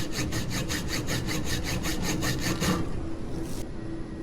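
A saw cuts through e-bike fork material in steady, rapid back-and-forth strokes, close and loud, about a dozen rhythmic passes before the sawing stops and a hum remains.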